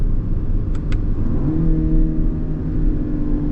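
A Lexus RX engine idles in sport mode, then revs upward with a rising, throaty tone, loud and close, with no talking.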